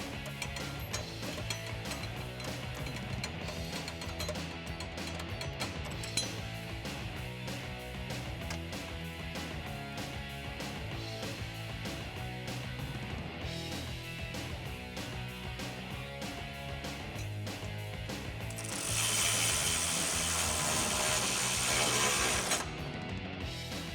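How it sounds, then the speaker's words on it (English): Hand ratchet clicking steadily as bolts are driven into an MBRP aluminized cat-back exhaust hanger on a 2018-2019 Mustang GT, close and continuous with a busier burst of rapid clicks near the end; no talk. "go ahead and install our bolts into our hanger just to get it locked into position"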